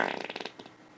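A button-triggered fart sound effect plays as a short, sputtering burst of rapid pulses that fades into a faint trailing rasp.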